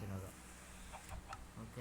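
Minecraft chickens give a few faint, short clucks over a low background hum in the game.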